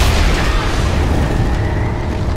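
A loud, close, sustained explosion from a bomb pistol blast flipping a car in an action film, a dense roaring boom that holds steady before cutting off abruptly.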